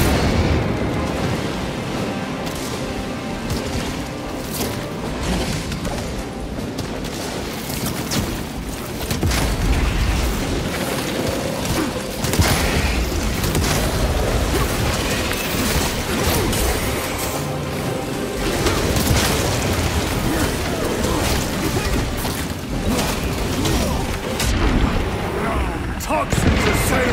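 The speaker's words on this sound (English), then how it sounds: "Grenade!" Grenade blast in the Warhammer 40,000: Space Marine 2 video game, heard as loud booming explosions and rumble amid dense game noise over a sustained, heavy background.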